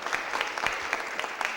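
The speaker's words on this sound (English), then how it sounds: "let's give a big round of applause to Alderman Freeman" A room at a Board of Aldermen meeting applauds Alderman Freeman, a brief burst of steady clapping from a modest crowd, moderately close.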